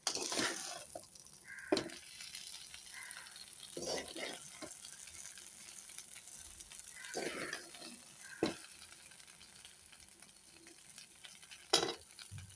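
Curry leaves scattered into a pan of frying brinjal masala give a faint, quiet sizzle, broken by a few sharp scraping and tapping stirs at irregular intervals.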